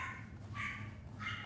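A pet dog barks excitedly indoors, giving two short, bright yelps about half a second apart, fairly faint and at some distance.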